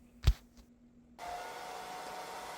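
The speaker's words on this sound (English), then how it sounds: "we turn on the hair dryer and make sure that he's okay with the sound and the feel" A hair dryer fitted with a diffuser switches on after a brief knock and then blows steadily while drying a freshly washed cat, a constant close airy whir.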